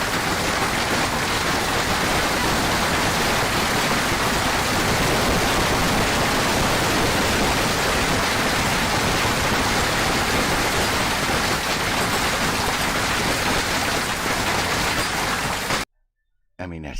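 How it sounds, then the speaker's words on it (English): Heavy hail pours down in a dense, steady hiss and patter, loud and continuous for most of the stretch before cutting off abruptly near the end. "look at all the hail on the ground there. All over the place. And it's still coming"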